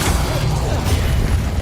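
Incendio fire spell cast in Hogwarts Legacy, a loud dense whooshing roar with deep rumble that holds steady for the whole moment, without any distinct breaks.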